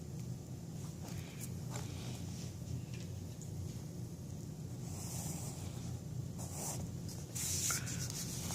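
A pen or pencil scratches and rubs across paper while a building structure is drawn by hand, in soft, steady strokes with small irregular pauses, close and fairly quiet.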